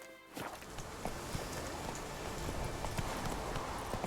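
Roach, Geralt's horse in The Witcher 3, walks along with a steady clip-clop of hooves, soft and fairly close, continuing without pause over a faint outdoor background.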